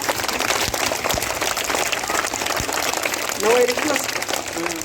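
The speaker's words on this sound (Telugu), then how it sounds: "ఇంత క్విక్ డెసిషన్ తీసుకున్న భాస్కర్కి ఒకసారి మనం అంతా క్లాప్స్ కొట్టాలి." An audience claps at a sports kit donation event for a government school in Guntur. The applause is a steady, dense patter that fills the whole stretch, with a brief voice rising through it near the end.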